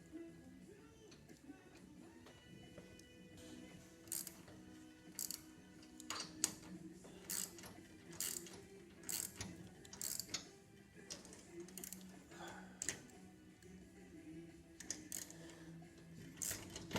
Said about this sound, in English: Surprised if this ratchet lasts the full rig. It's taken a lot of strain.